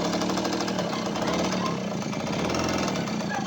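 A vintage Suzuki FR50 small motorcycle engine runs loud and close, a steady rapid rattling putter at a fast idle throughout.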